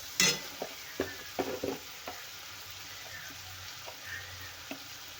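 A fenugreek and ridge gourd dry stir-fry being stirred in a pan with salt and red chili, soft scraping strokes and light clatter over a faint sizzle, close and without talk.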